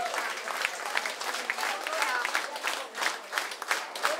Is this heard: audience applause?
yes